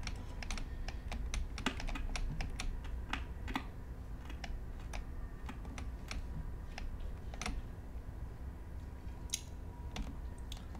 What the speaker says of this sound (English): I'm sorry about all of the keyboard